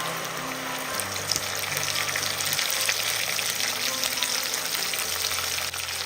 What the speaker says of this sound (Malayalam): നമ്മൾ അരച്ച് വെച്ച നെല്ലിക്കയുടെ പേസ്റ്റ് ഇതിലേക്ക് കൊടുക്കാം